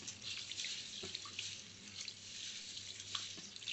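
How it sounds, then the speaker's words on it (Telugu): Sorghum grains rubbed by hand in a bowl of water for Jonna Sankati, a soft, continuous sloshing and swishing with faint splashes, quiet and close, with no talking. "జొన్నలను ఈ విధంగా చేతితో నలుపుకుంటూ ఒక 2 నిమిషాల పాటు"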